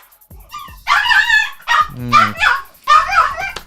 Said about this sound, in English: That's my dog. Let me take him out.